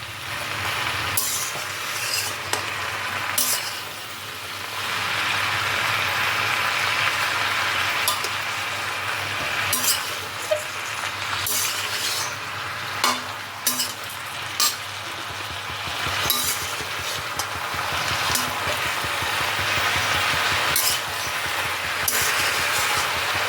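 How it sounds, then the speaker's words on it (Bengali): Bottle gourd greens are mixed with vegetables and spices in a pan for a vegetarian dish with matar dal, heard as repeated scraping and clinking stirs over a low sizzle, close and irregular, with no talking. "শাকের সাথে সমস্ত সবজি আর মশলাগুলোকে ভালো করে আমি মিশিয়ে নিচ্ছি।"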